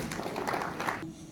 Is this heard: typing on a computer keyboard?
no